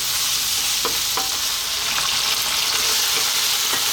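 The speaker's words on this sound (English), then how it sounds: "Let's really cook this meat, get it going before we add any other ingredients." Lamb meat frying in a pot for an Ethiopian lamb and potato stew, a loud, close, continuous sizzle with a few sharp stirring scrapes, no one speaking.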